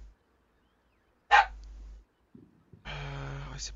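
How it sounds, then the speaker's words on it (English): A dog barks once sharply, then gives a longer, tonal bark or whine after a soft sound, close and loud amid quiet gaps. "My apologies for my dog."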